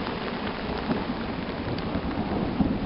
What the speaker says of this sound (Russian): Да, при таком дожде, конечно, гроза должна быть.